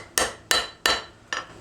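Four sharp metallic strikes from a straight peen hammer forging a 5160 coil steel knife edge, ringing close and loud at an even pace, the last blow slightly softer.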